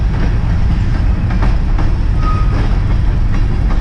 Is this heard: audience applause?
no